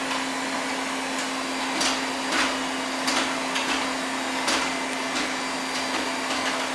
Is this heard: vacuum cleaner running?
yes